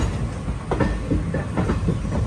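A passenger train runs along the Nilambur Road railway line between Palakkad and Nilambur, giving a steady rumble of wheels and carriages with a faint clickety-clack rhythm, heard close and continuous with no voices.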